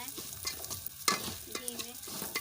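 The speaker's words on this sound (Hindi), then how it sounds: "इसको हमें भूनना है" Broken wheat (daliya) roasting in ghee over a low flame while it is stirred in a pan. Soft scraping strokes and a faint sizzle come in irregular bursts, close by, with no speech.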